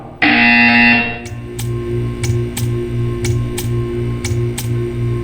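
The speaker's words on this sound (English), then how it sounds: "You will hear a buzzer. When you hear the buzzer, stare at the art." A loud electronic buzzer in the video game Portal 2 sounds for about a second, then a steady ticking continues with regular sharp clicks roughly every half second.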